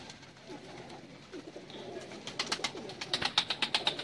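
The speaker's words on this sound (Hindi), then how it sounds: "ये जी ब्रीडर बर्ड्स हैं।" Breeder pigeons cooing on a rooftop in Sialkot, soft low coos at first and then rhythmic, louder pulsing calls close by.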